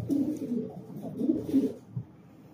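Pigeons coo nearby in soft, throaty, rolling bursts, two or three overlapping calls close together and then a brief low note as they trail off.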